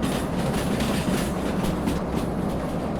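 Train in the Derail Valley simulator rolling through a track junction, with a steady close rumble of wheels on rails and rhythmic clickety-clack over the switch, continuous and alone for about three seconds.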